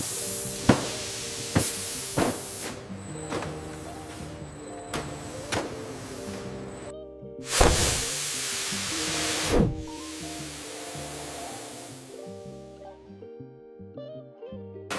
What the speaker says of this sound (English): Before empty bottles enter the filling line, strong air is blown inside to remove any potential dust, making them spotlessly clean.